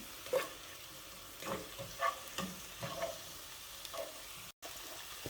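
Onions for French onion soup being stir-fried in a pan, with several soft scraping stirs over a quiet sizzle. The sound is fairly faint and close, with no voices and a brief dropout near the end.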